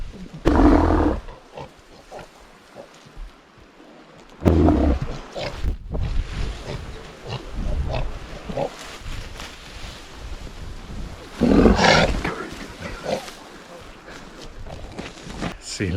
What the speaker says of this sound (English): Sea lion hiding in the tussocks, nibbling at my ankles.